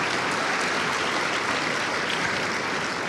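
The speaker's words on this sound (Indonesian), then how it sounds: "aplaus ya." A studio audience at an Indonesian TV talk show claps steadily, a dense, even wash of applause that fills the whole moment without pause.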